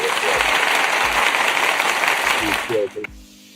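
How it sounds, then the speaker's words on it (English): Sustained crowd applause honours Black-owned businesses in a funding competition at a town hall, dense clapping that fades out near the end as a voice begins to speak. "give some applause for all of these Black-owned businesses in this competition"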